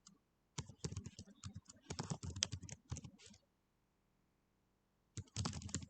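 Rapid keystrokes on a computer keyboard as form data is entered, two dense bursts of clicking separated by a short silence, close and fairly quiet with no talk.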